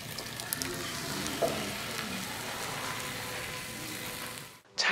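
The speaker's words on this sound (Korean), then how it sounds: "뜨겁게 달군 파차이에 누룽지를 넣고 해물 소스를 부어" Seafood sauce poured over crispy scorched rice in a hot wok at a Chinese restaurant sizzles loudly and steadily throughout, a dense continuous crackle that cuts off abruptly at the end.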